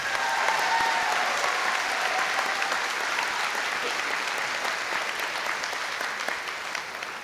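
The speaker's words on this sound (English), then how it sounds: "I think we deserve or should give a round of applause to Mr. Brian Stahl and the band" Sustained audience applause at an 8th grade promotion ceremony honoring the band director and band, a dense steady wash of many clapping hands that tapers slightly toward the end.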